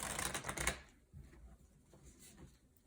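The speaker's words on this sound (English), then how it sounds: "I shuffle and then draw 1 for the villain" A deck of print-and-play prototype cards is shuffled during a tabletop game, a short burst of rapid riffling flutter at the start followed by quieter soft card handling and taps, close and faint.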